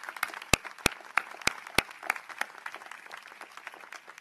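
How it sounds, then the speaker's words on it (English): Scattered applause at an outdoor school commencement ceremony on a lawn, a few sharp close claps standing out early before the clapping thins to a light, sparse patter. "let's give our facilities team a round of applause"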